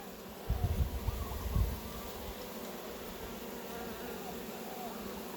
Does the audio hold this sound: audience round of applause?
no